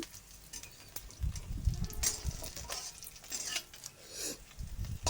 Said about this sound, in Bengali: এখন মশলাটা আমি ফুল হিটে ভাজছি।